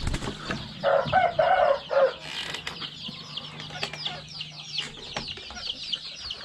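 Free-range village chickens clucking and squawking close by, with a burst of louder calls early on and softer scattered clucks and rustling afterward.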